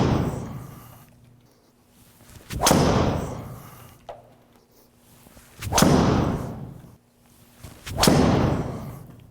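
A golf driver strikes a Kirkland Signature golf ball three separate times, each a sharp, loud, close impact crack followed by a brief ringing decay. Quiet pauses with faint low hum fall between the evenly spaced strikes.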